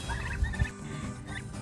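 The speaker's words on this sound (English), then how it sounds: "I can show you guys our meat turkeys" Young meat turkeys housed in a chicken tractor gobble and chatter in a steady overlapping clutter of calls, close and moderately loud, with a couple of low thumps early on.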